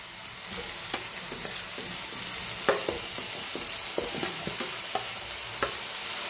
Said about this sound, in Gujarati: હવે આપણે એમાં નાખી દઈએ કેપ્સિકમ.